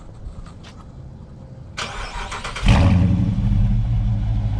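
A Dodge Charger RT with a Hemi engine, already warm, cranks with a short starter whir and catches into a loud, steady low idle rumble that continues to the end, heard close with no talking.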